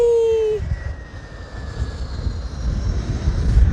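A British Airways Airbus A320-200 passes at London Heathrow, a steady broadband engine roar holding loud throughout, with a brief tonal whine at the start.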